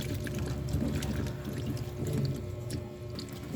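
Water pours steadily over bitter gourd being washed, a continuous close splashing and running flow with no one speaking.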